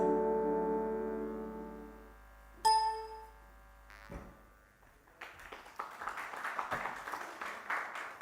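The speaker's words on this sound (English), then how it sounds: "Thank you for the applause, ladies and gentlemen" A sustained musical tone and a bright ding fade out, then a conference audience breaks into steady clapping that continues to the end.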